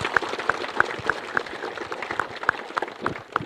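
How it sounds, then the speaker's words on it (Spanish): Classmates in a school clap for a fellow student returning to class after recovering from an accident, a steady rhythmic patter of hand claps at a moderate, even pace with no voices over it. "¿Dónde está ese aplauso, jóvenes, señoritas?"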